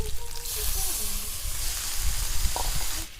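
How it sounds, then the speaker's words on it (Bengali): Poppy seed paste water hits a hot pan and sets off a steady, close hissing sizzle that lasts throughout, with faint clinks and scraping as the mixture is stirred. "এই পোস্ত বাটা জল দিয়ে এবার জল দিয়ে দিচ্ছি।"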